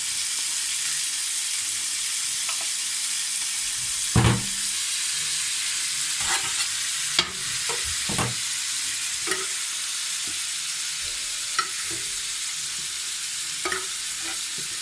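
Butter sizzling in a hot pan with a steak, a steady bright hiss running throughout, punctuated by scattered pops, spits and occasional utensil knocks at irregular intervals.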